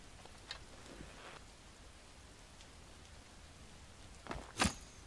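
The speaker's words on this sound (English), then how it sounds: "It's raining so much I can't even see." Heavy rain falls in Skyrim as a soft, even hiss that stays faint and continuous, with a couple of brief thuds and a sharp burst near the end, and no voices.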